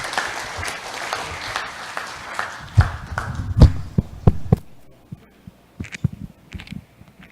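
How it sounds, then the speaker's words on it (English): An audience at a keynote address breaks into a round of applause. Dense clapping fills the first few seconds, then thins out to scattered, fading claps. "Let us give him a round of applause."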